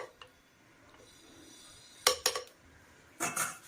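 Drumstick leaves rasam with turmeric being stirred in a pot, giving a few sharp metallic clinks of a spoon against the vessel, two close together near the middle and another pair near the end, quiet kitchen background.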